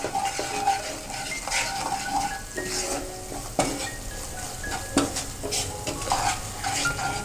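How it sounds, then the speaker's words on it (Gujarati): Spiced crumbled dry rotlo being stirred in a pan, with repeated scraping and clinking of a spoon against metal over a continuous light sizzle, close and busy throughout. "અને બધું સરસ રીતે મિક્સ કરી દઈશું।"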